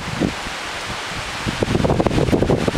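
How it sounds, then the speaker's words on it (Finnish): Strong wind blows in gusts, a steady rushing roar that buffets the microphone and grows rougher and louder in the second half, with no voices. "Ja tuuli on aivan järjetön."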